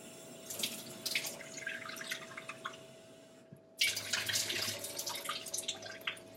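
Water runs from a tap in close, splashy bursts, pauses briefly, then gushes again more strongly.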